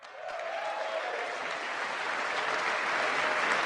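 Applause from the audience at the State of the Union address, a dense, sustained clapping that holds steady and swells slightly across the few seconds, with a faint murmur of crowd beneath.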